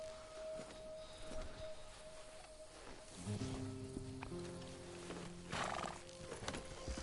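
A large workhorse in the video game Red Dead Redemption 2 neighs and snorts, with hooves clopping in bursts over a low outdoor ambience, fairly close and fairly loud.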